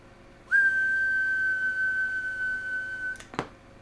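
A single steady whistle is transmitted through a Cobra 148 GTL CB radio on AM, holding one clear tone for nearly three seconds before cutting off with a short crackle.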